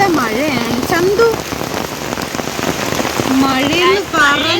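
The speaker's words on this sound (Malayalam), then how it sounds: "മഴയെന്ന് പറഞ്ഞ പെരുമഴ." A heavy downpour drums steadily at Trivandrum Zoo, loud and close throughout, with a voice speaking over the rain in places.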